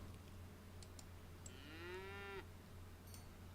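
A single long cow moo rises and then cuts off in the Ages of Cataria city-building game, heard alone and fairly clearly over faint ambient game background.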